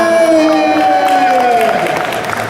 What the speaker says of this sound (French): je vous demanderai un tonnerre d'applaudissements